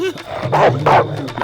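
A dog in a Tamil comedy scene gives short yipping barks and whimpers, close and fairly loud, mixed with nearby voices.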